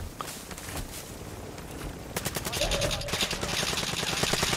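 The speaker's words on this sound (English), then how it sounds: "Because we're getting shot at." Rapid bursts of automatic gunfire in a multiplayer shooter video game crackle loudly and continuously, growing denser toward the end, with no talk over them.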